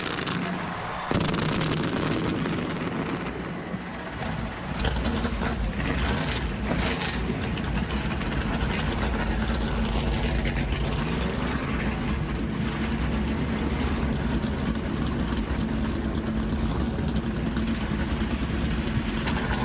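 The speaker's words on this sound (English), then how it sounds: "Drivers, start your engines!" NASCAR Cup Series stock car engines fire up at the 2023 Pala Casino 400 in Southern California, a sudden loud roar after a brief lull, then a dense, sustained rumbling idle from many cars together.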